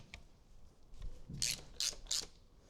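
A hand ratchet loosens exhaust mount bolts on a 2024 Harley-Davidson Street Glide, giving three bright, close clicking pulls in steady rhythm after some softer handling noises, with no talking.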